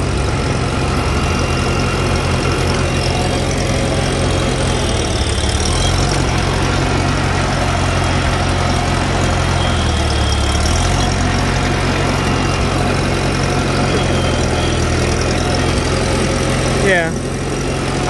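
A riding lawn mower engine runs loud and close, holding a steady, low idling drone throughout, with the mower deck raised and lowered and people talking over it.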